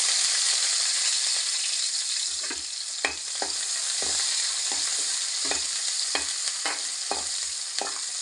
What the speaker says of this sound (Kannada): ಒಗ್ಗರಣೆ ಹಾಕ್ಕೊಂತೀವಿ